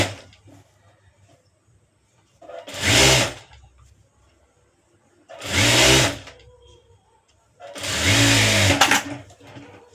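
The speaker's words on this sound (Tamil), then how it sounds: "இந்த பக்கமும் மறுபடியும் மடக்கி வச்சுட்டு ஸ்டிச் பண்ணிக்க வேண்டியதான்." Sewing machine stitching a light puff sleeve in three separate bursts of a few seconds each, a close, loud whirring hum with quiet gaps between runs.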